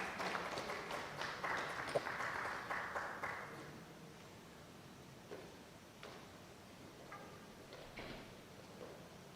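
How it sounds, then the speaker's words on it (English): Audience applause greets the evening's speakers at a live panel discussion on Trump 2.0 and India, a dense burst of clapping for about four seconds that fades into quieter room noise with scattered knocks. "A very warm round of applause for the speakers for this evening."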